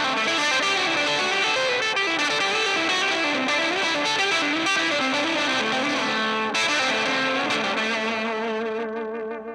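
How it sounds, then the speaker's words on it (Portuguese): An electric guitar riff played through a Cachalote Console Preamp pedal with heavy reverb rings out loud and distorted, sustained chords washing into a long reverberant tail. "mas com uma quantidade bem mais generosa de reverb para que esse efeito ficasse ainda mais dramático"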